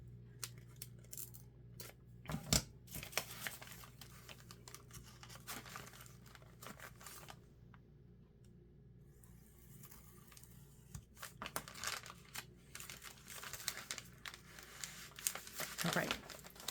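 Scissors cutting paper while making a handmade journal, heard as quiet, irregular snips and crinkly paper handling in scattered bursts, with a lull in the middle and busier rustling toward the end.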